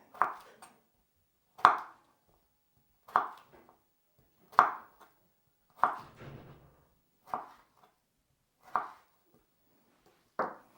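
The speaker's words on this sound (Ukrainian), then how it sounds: "Огірок я буду різати ось такими невеликими трикутничками" A knife cutting fresh cucumber into small triangles on a board, eight crisp, evenly spaced chops about every second and a half, close and clear with quiet between strikes.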